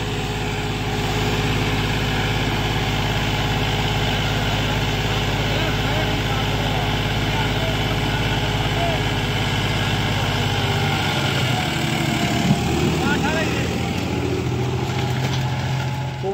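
Tractor engine running steadily at about 1800 RPM while harrowing a field, a loud, continuous mid-low drone that shifts slightly near the end, with voices talking over it.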